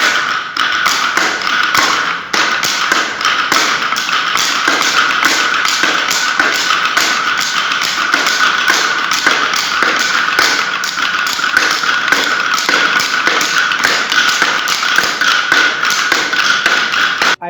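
Students of different age groups practicing drums, heard by a passing cyclist: a loud, dense stream of rapid beats and thuds that continues without a break.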